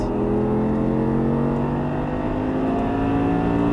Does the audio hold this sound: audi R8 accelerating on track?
yes